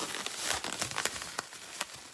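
A plastic bag holding peppers crinkles close to the microphone in a quick, uneven series of sharp rustles and crackles, with no talk over it.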